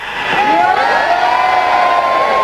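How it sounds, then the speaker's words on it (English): A convention audience cheers and whoops together on cue, a loud sustained roar of mixed voices lasting a couple of seconds, heard up close. "Let's just have a cheer!"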